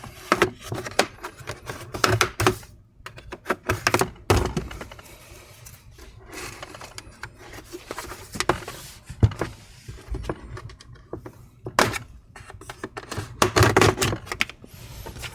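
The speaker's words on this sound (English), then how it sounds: "I'm using a plastic prying tool to get me a better opening" Plastic prying tool working open the cover of an HP 17t laptop, giving sharp, irregular snaps, clicks and creaks of plastic clips releasing, close up, scattered across the whole stretch with quiet gaps between.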